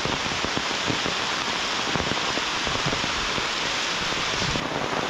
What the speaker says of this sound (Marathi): जोरात पाऊस दिलेला आहे.